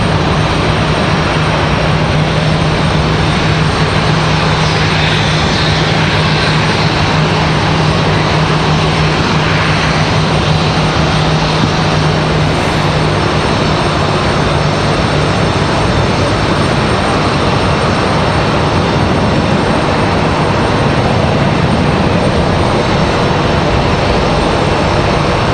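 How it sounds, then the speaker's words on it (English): A CRJ regional jet touching down at Raleigh-Durham airport, a loud, steady broadband engine roar that holds for the whole stretch, with no talking. "So the CRJ about to touch down."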